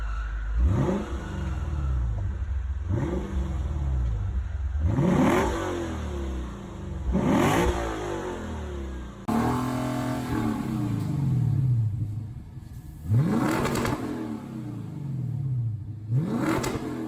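A 2019 Lexus RC F with an Invidia Q300 cat-back exhaust and mid-pipe revving repeatedly, about seven loud, close throttle blips that rise sharply and fall back to idle between them.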